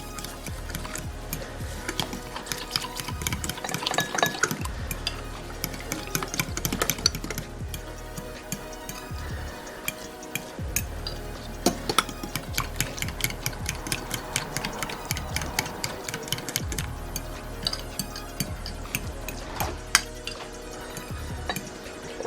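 Ingredients for a weight-loss snack, including chia seeds, are stirred together in a bowl. The scraping and ticking is busy and continuous, rising and falling in steady strokes for about twenty seconds, with no talking.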